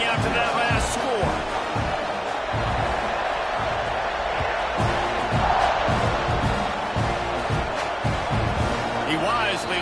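A football stadium crowd roars and buzzes steadily after a score, a loud, dense wall of cheering with sharp bursts and thumps throughout, while a commentator talks over it.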